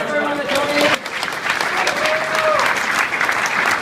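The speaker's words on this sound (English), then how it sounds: "Take a big round of applause for everyone that" An audience at a YFC spring banquet applauds with dense, continuous clapping that fills the room throughout, while a voice speaks over it at the start.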